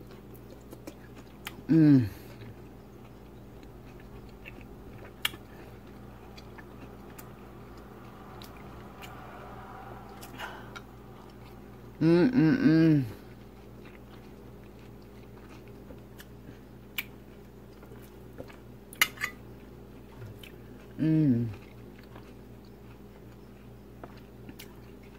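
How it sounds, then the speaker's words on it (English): Orange pieces being bitten and chewed close up: three short, wet, crunchy bursts of chewing spaced several seconds apart in a quiet room, with a brief murmured voice. "Couple bites of orange."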